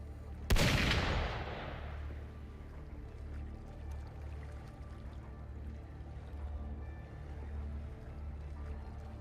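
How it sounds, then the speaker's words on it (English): A single loud gunshot in a video game cracks out near the start and rings off in a long decaying tail, leaving a low steady ambient hum behind. "Gunfire!"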